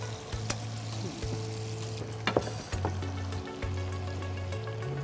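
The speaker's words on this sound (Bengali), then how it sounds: "চিংড়ি ভাজা হচ্ছে বাবা, চিংড়ি ভাজা খুব মজা না?" Shrimp frying in oil in a home kitchen, a steady close sizzle with occasional stirring clinks and scrapes, no talking.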